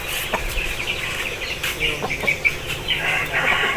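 A Java-coloured aseel rooster clucks repeatedly nearby in a string of short, moderately loud calls over a steady background.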